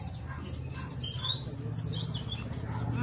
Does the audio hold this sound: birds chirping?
yes